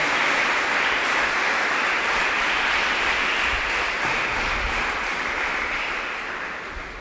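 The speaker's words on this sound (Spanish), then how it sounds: "Dale un fuerte aplauso al Señor." Loud, continuous applause from a church congregation during a sermon, a dense wash of clapping that holds steady and fades slightly at the end, with no voices heard.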